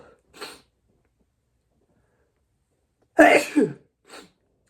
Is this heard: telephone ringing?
no